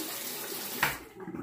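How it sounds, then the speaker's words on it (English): A tap runs while a King C. Gillette razor is rinsed at a sink. The flow is a steady close hiss with a brief splash partway through, then it quiets. "Okay, I'll rinse again."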